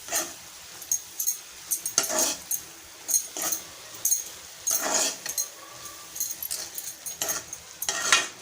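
Fenugreek leaves (methi bhaji) being stirred in a pan, Malvani style, with repeated scraping and stirring strokes at an irregular rhythm, fairly close and alone without voices.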